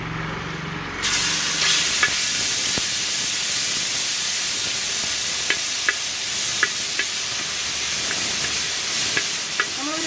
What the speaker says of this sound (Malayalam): അപ്പൊ നമ്മുടെ ഉരുളി ചൂടായിട്ടുണ്ട് നമുക്ക് എണ്ണ ഒഴിച്ചു കൊടുക്കാം അപ്പം നമ്മൾ ഇഞ്ചി പച്ചമുളക് വെളുത്തുള്ളി എല്ലാം കൂടെ ചതച്ച് വെച്ചിരിക്കുന്നതാണ് നമുക്ക് ഇട്ട് കൊടുക്കാം